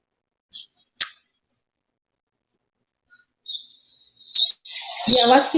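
A small bird chirps in short, sharp isolated tweets against near silence, then breaks into a quick run of louder, busier twittering calls.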